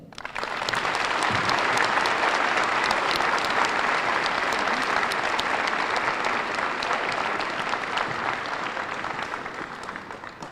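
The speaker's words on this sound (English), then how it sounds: "Please welcome the veterans with your applause on this Veterans Day" An audience at a school district Veterans Day ceremony applauds the veterans, with many hands clapping in a full, steady burst that builds quickly, holds for several seconds, then tapers slightly toward the end.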